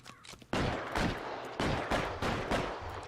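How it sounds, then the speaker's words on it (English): Gunfire in the LA Noire video game: a rapid series of about five loud, sharp shots in quick succession with short decaying tails, close and dominant, no speech over them. "And now we shoot."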